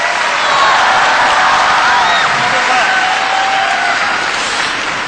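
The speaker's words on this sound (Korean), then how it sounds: "크게 박수 한번 해주시면" A crowd at a testimony event applauds loudly to welcome Nick, with sustained clapping, cheers and scattered whoops forming one steady, full roar.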